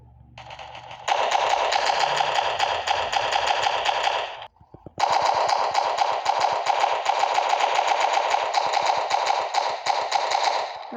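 Machine gun in the Roblox game Prison Life firing in a long, continuous rapid stream, loud and close, broken by a short pause before resuming at the same relentless pace.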